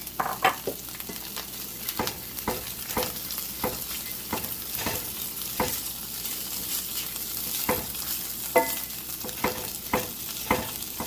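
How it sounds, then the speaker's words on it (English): Hash browns fry in a pot with a constant sizzle punctuated by frequent rhythmic scraping and tapping of a utensil against the pot, close and steady throughout. "So I'm going to let it fry into this pot"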